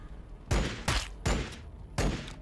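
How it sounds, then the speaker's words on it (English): Four heavy gunfire bursts from the Warhammer 40K Battlesector strategy game, loud booming volleys each trailing off before the next, evenly spaced in quick succession, with no voices. "Fire again."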